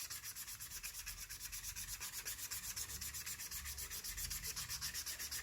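Sandpaper rubs rapidly back and forth along the leather edges of a folding pen case, a quiet close scratching in a quick, even rhythm.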